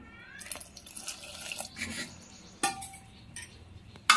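A small pour of water goes into a pot of dal with chopped bottle gourd, salt and turmeric, brief splashy trickling with a few clinks and knocks of utensils, close and fairly quiet.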